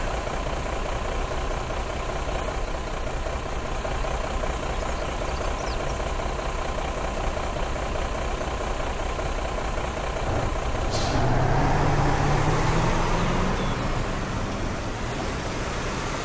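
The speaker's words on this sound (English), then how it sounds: "Or that truck took way too long to actually pull away." A truck idling at a traffic light just ahead of a coach on a hot day, a steady low engine rumble with a diesel knock that swells briefly as it starts to pull away, no talking.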